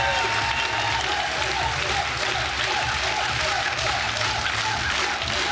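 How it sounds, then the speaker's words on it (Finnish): A studio audience at a Finnish show breaks into sustained, dense applause. The clapping is loud and even and carries on without a break for several seconds. "Annetaan vielä kerran kunnon aplodit."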